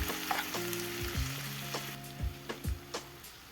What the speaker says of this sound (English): in a frying pan, add butter